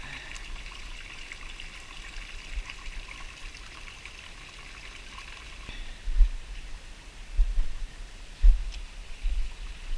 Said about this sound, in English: You can hear water flowing.